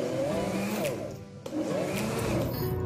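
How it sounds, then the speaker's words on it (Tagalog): A blender whirs loudly, its motor pitch rising and dipping as it chops ingredients for homemade probiotic, with a brief lull in the middle. "pagka nag-blender kayo ng mga sangkap ng ating paggawa ng probiotic"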